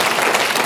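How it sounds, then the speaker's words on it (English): A brief burst of dense audience applause at a lecture in Holmfirth, UK, many hands clapping at once. "So without further ado, a round of applause for Robert Fleischer."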